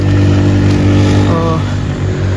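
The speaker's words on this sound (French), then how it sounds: "Vous allez voir les motos qui passent là." Motorcycles pass along a roadside, their engines a steady midrange drone with a brief rising whine, continuous and fairly loud throughout the short stretch.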